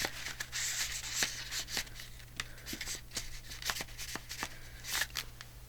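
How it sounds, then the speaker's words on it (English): Scissors cutting paper for a Christmas journal tag, a quick series of crisp snips and rustles at irregular intervals, close and fairly quiet. "Cut that right there."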